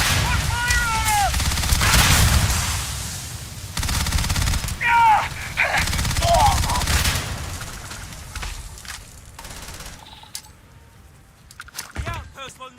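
Gunfire in the video game Starfield during an outpost defense: rapid bursts of shots and booms at close range, loud and dense, with people shouting over the shooting before it thins out into scattered sharper cracks.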